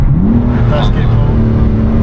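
A car with a dual-clutch transmission pulls hard in first gear, the engine note rising steadily in pitch as it revs up, loud and close from inside the cabin.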